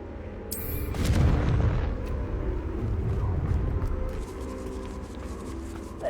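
A Confringo explosion spell cast in the Hogwarts Legacy video game: a loud, booming blast with a sharp onset, then a sustained rumbling roar that holds for several seconds before easing.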